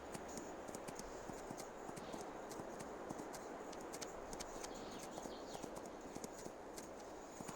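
Rapid, regular horse hoofbeats clip-clop continuously in Farming Simulator 22 over a bright, steady background hiss, with faint bird chirps mixed in.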